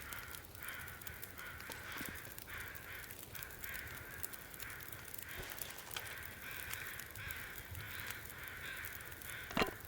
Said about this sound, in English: The crows are so loud, too.